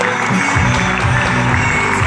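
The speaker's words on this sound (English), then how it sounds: "everybody to stand up and give her a round of applause." Applause from a standing audience at an Asian awards ceremony, a continuous loud wash of clapping filling the hall with a low murmur underneath.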